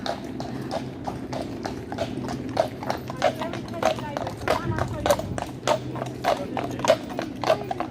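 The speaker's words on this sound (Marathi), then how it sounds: "लंडन पोलीस असं घोड्यावरून सुद्धा" Police horses walk along a London road, their hooves striking the pavement in a steady clip-clop, several animals close by over a busy street murmur.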